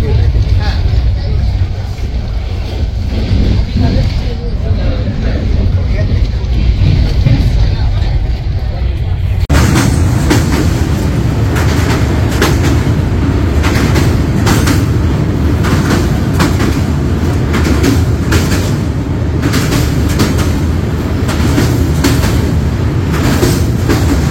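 Puri Shatabdi Express heard from inside the coach near Cuttack, a steady loud rumble that turns harsher partway through, with rhythmic wheel clatter and passing-train noise; voices occasionally cut in.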